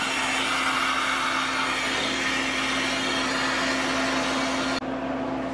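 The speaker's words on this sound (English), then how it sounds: "open the drain valve and vent the freeze dryer" A steady, loud rushing hiss of a freeze dryer venting through its drain valve under a constant mechanical hum, cutting off abruptly near the end.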